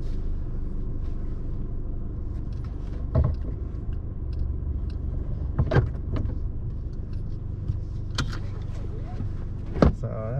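A car parks near a Washington state park, its engine rumbling low and steady with a few brief mechanical clicks and thumps scattered through; a voice is not clearly heard.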